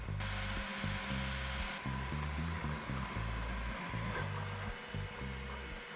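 An Elegoo Centauri Carbon 3D printer lays down its first layer at high speed, giving off a steady fan whoosh over rapid, stepping motor tones that keep shifting in pitch.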